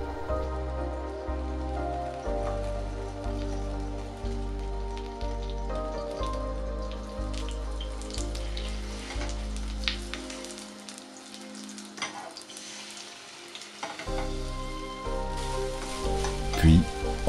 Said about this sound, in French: dans la même poêle ou sauteuse à feu moyen, 2 cuillères à soupe d'huile, mettre les œufs battus à brouiller grossièrement